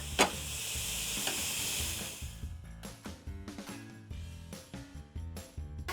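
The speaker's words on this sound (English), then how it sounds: "right now I'm chopping up the meat to get it into parts so that it's easier to cook" Ground meat for walking tacos fries in a pan with a loud, steady sizzle, then a spatula chops and stirs it in irregular scraping clacks as the hiss dies back.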